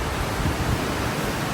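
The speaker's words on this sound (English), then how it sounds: "The winds are so strong." Strong, steady wind roars outdoors with broadband rushing noise, constant and loud throughout with gentle swells and no clear voices.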